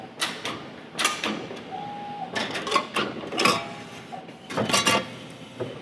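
A ChannelBender SXP machine bends the overlap seam of a .040 aluminum channel letter, giving a series of sharp mechanical clacks and whirring bursts at irregular intervals, close and fairly loud.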